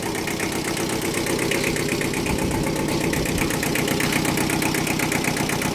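A small Kubota two-cylinder tractor engine idles steadily and close by, its low, rhythmic chugging holding an even pulse with a light knock throughout, with no voices over it.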